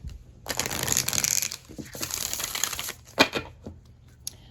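New Rumi oracle cards, slightly stiff, being shuffled by hand, with two longer riffling bursts of papery rustle, then softer snaps and a sharp slap, close and fairly quiet.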